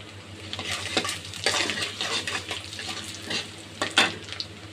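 Panch phoron spice mix frying in hot oil with garlic in a pan for amra (hog plum) pickle, a close steady crackle with scattered louder pops and spoon-scraping stirs, no voices.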